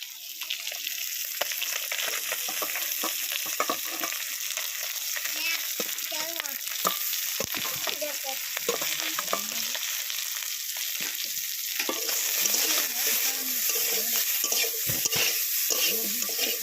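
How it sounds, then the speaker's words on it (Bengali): Fish frying in a pan with onion, garlic and chili for a Bengali water rice thali, a steady loud sizzle with stirring scrapes running throughout, close and continuous, with no talk. "এবার মাছ ভাজার সাথে পেঁয়াজ রসুন আর লঙ্কা দিয়ে দেবো"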